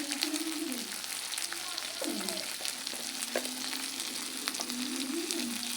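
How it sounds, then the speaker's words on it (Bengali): Chili, onion and garlic paste with salt and spices sizzle and fry steadily in a pan, with continuous crackling, occasional stirring knocks and faint talk in the background. "মশলাটা ভাজা হয়ে গেছে"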